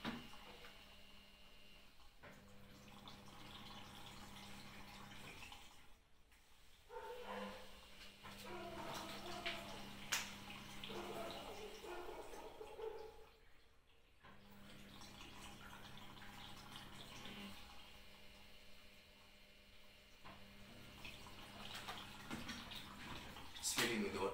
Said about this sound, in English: There you go, it's filling with water.